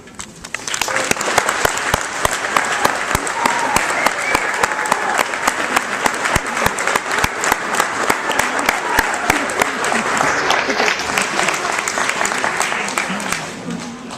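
An audience applauds steadily and loudly for a good fourteen seconds at a family gathering, dense clapping holding an even level before easing slightly at the end.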